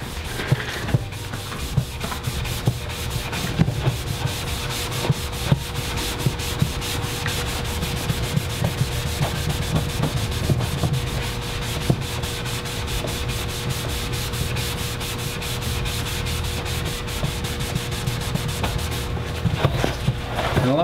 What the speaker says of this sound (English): now we're gonna try to buff these tags on this smooth plastic surface, AKA a garbage can, and see how they perform.